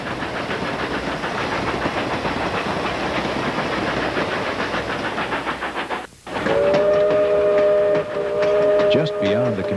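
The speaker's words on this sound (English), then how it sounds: "The train crosses a covered deck bridge, then enters the first of 5 tunnels." An ET&WNC Tweetsie steam train rumbles and clacks over a covered deck bridge, the sound dropping briefly as it enters a tunnel, then a long steady steam whistle sounds loudly.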